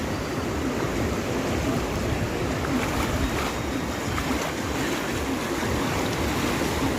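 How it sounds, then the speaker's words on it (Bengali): Big sea waves roll onto a beach at Mandarmani, a steady loud roar of surf and rushing water with wind buffeting the microphone throughout. "বড় ঢেউ আসছে বড় ঢেউ"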